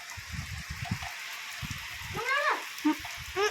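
Rain falling outdoors while children fly a kite: a soft, steady hiss runs throughout, with brief voices and short tonal cries rising over it toward the end.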